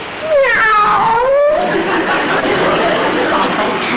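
A cat meows loudly with a rising, wavering wail, followed by a rough, continuous yowling noise close by.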